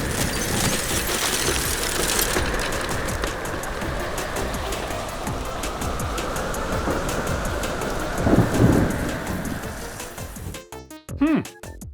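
Steady heavy rain with rumbling thunder fills a thunderstorm, a dense continuous wash of noise that swells briefly near the end before an abrupt change.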